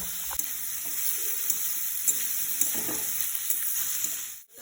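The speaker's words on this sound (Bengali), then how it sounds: "প্রথমে বরবটিটা দিয়ে দেবো, গাজরটা দিয়ে দেবো, একটু নেড়ে নেবো।" Long beans and carrots for chow mein stir-fried in a hot pan, a quiet steady sizzle and hiss with occasional soft spatula scrapes, close and without speech.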